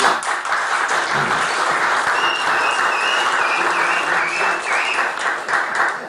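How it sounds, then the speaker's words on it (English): A room of attendees at a chapter meeting breaks into loud, sustained applause lasting about six seconds, many hands clapping close and evenly, with a few faint whistles or voices above it. "And we'll applaud you for it."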